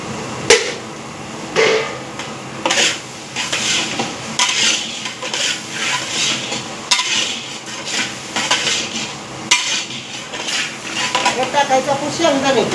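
Tomatoes are stirred into frying onion in a large batch of poha, with clattering pots, scraping utensils and metallic knocks repeating throughout, close and busy, over light background sizzle.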